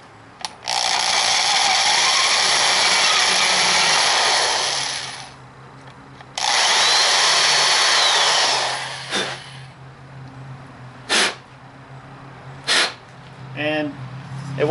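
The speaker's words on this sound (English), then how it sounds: "So we're just going to drill into this." A power drill grinds into a metal oil pan at a bolt hole in two long loud bursts, each lasting a few seconds, followed by brief whirs and clicks.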